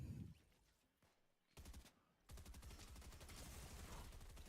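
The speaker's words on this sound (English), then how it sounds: "We're going to see Hudson fall to King with both using the exotic or mythic minigun." Sustained automatic fire from a minigun in an esports shooter match, coming in loud rattling bursts split by short lulls, then a long continuous stretch, with no talking.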